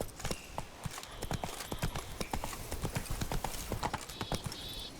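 Roach, a horse in The Witcher video game, clip-clops along at a steady walk, hooves striking in a close, even rhythm over a soft ambient bed, with a faint whinny near the end.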